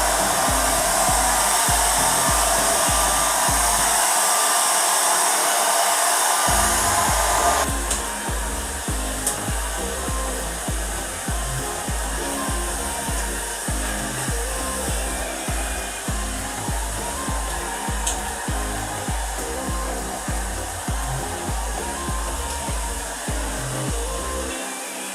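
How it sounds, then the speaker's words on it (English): A hair dryer blows out a wig, roaring loudly and continuously up close, dropping briefly to a lower setting and pulsing slightly as it is moved through the hair. "So what we are going to do right now is blow it out."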